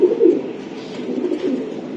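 Racing pigeons coo softly nearby, with a few low throaty coos in quick succession over a quiet background.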